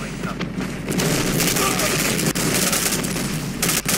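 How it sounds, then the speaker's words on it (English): Sustained minigun fire in the online shooter Black Squad, a dense continuous roar of rapid shots with brief dips, loud and close, with game action noise around it. "minigun"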